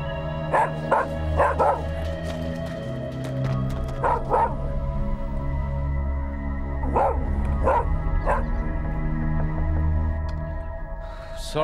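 A dog barks nearby in loud bursts of two or three sharp woofs, separated by pauses over a low steady hum indoors.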